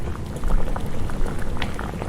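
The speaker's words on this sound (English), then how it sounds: "the pot of broth bubbling on the battered stove beside her" A pot of broth bubbles on a battered old stove, a steady dense simmer of popping bubbles close by, with no voices over it.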